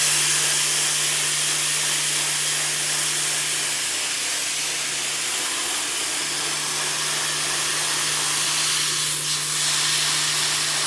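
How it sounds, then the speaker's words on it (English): Spray bars in a koi pond drum filter blast water through the mesh, a loud, continuous broadband hiss with a steady low hum beneath, unbroken and close for the whole stretch. "Watch the spray come through the mesh. That's the pure power of these spray bars."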